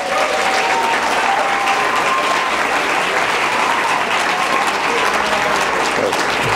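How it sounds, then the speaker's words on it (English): Loud, dense applause from a school audience at a Chanukah show, thanking new families, a sustained wash of clapping that holds steady for several seconds. "can you just stand up real quick so we can give you a round of applause and say thank you?"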